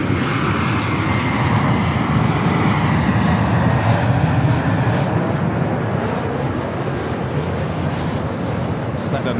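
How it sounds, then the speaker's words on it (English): An American Airlines Airbus A321 jet at LAX sends a broad, steady roar of engine noise across the airfield, sustained at moderate distance throughout. "Just like an American A321 heading to 24 right"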